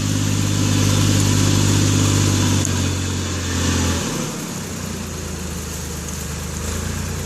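Heavy equipment engine running steadily at a farm, a loud continuous low rumble that dips briefly midway then carries on.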